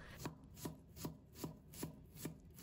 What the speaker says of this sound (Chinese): 然后改刀切成姜丝， 然后切成姜末。